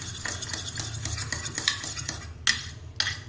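Chili sauce and tomato sauce mixed with a spoon in a bowl, giving steady clinking and scraping strokes with a few sharper taps of metal on the dish near the end.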